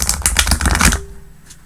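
Tarot cards shuffled in quick riffling bursts, a dense crisp rattle for about a second, then stopping abruptly with a faint hum and a small tap after.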